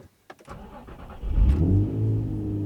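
A Nissan 350Z engine cranks briefly and catches, then settles into a low, close idle rumble.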